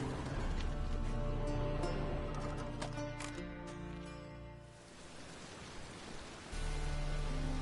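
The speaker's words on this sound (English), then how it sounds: "Looks like rain." Steady rain hissing down in The Witcher 3, a dense continuous wash that thins briefly midway before swelling back, with no voices over it.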